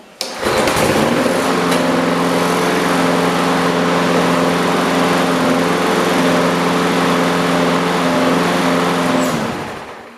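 An older push lawn mower engine starts with a pull and settles into a loud, steady small-engine drone that runs continuously before cutting off at the end.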